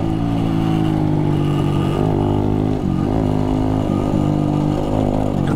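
Yamaha YG5 motorcycle riding through a corner, a loud continuous engine drone heard close up with small dips and rises in pitch as the throttle eases and opens, no talking.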